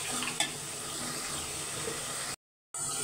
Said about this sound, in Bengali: দেখুন ভালো করে মশলাটা কষায় নিচ্ছি।